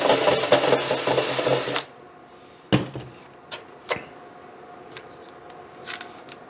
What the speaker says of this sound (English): I pulled out a step drill